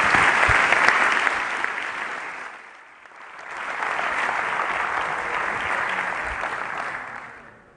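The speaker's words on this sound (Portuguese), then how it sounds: "Uma salva de palmas, empunhem as vossas bandeiras, mostrem a nossa energia" Socialist Youth convention audience applauding in a large hall, dense sustained clapping that dips briefly before swelling again and continuing steadily.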